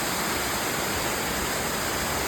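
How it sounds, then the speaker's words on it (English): Ramona Falls waterfall on the Timberline Trail, heard as a steady, dense broadband roar of falling water, close and unbroken throughout. "It's a pretty cool waterfall."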